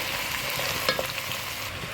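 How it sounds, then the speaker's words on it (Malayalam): Steady sizzling of avial, a Kerala mixed-vegetable curry, in a pan, with a few soft scraping stirs midway, close and fairly loud throughout. "നമുക്കിത് ഇളക്കി കൊടുക്കാം"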